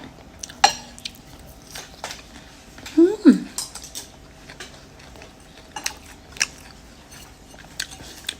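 Crunchy chewing and biting of roasted crickets, with scattered crisp bites and one louder crunch midway, close and fairly quiet.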